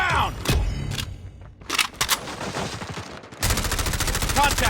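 Gunfire in a Call of Duty game, with sharp shots and bursts ending in a dense, steady volley of automatic fire, plus short in-game voice callouts.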